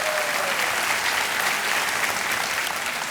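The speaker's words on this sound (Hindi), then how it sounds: "एक बार फिर तालियों के साथ आपका स्वागत करते हैं" Studio audience applause welcomes contestants on the Kaun Banega Crorepati quiz show set, a steady, even clapping wash at moderate loudness throughout.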